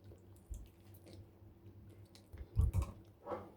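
Close, quiet chewing and biting on tough steamed chicken meat, with wet squishy mouth sounds and a few sharper bites clustered toward the end, no talking.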